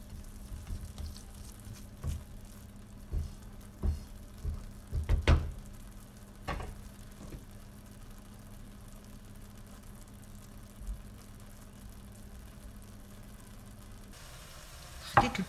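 Spices, herbs and vegetables cook in a pan with a quiet, steady sizzle, broken by a string of soft clinks and scrapes from stirring early on, then a calmer stretch of frying alone.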